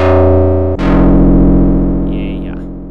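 Max/MSP modular synth patch with one oscillator frequency modulating another, a loud, sustained harmonic tone that abruptly shifts into a brighter, more complex buzzing timbre partway through, with a faint wavering overtone near the end.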